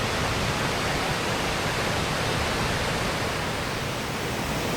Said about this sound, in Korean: 제가 지금까지 본 폭포 중에 어, 최고의 폭포를 어, 여기에서 보는 것 같습니다